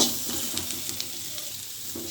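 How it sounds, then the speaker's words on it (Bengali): Dried fish with a little turmeric fries in oil, giving a steady, close sizzling hiss broken by soft scraping stirs, with no talking. "ভালোভাবে তেলে ভেজে নেব"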